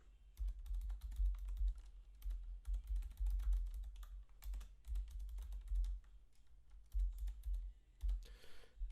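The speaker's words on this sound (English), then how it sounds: "just go ahead and type in your email for your YouTube account." Fingers typing an email address on a computer keyboard, a quick irregular patter of close, crisp key clicks in short bursts with brief pauses, no talking.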